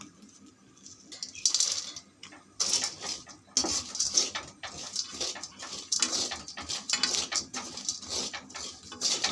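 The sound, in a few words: chickpeas being roasted in hot salt in a pan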